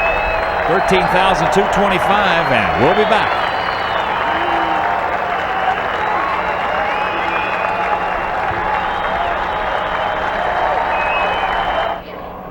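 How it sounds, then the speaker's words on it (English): Sustained crowd applause at a 2000 Orioles–White Sox baseball game as left-handed pitcher Jim Parque leaves the mound, a steady broad roar that runs at even loudness under an announcer's talk and drops off near the end. "As he will depart, you'll get a nice round of applause from the"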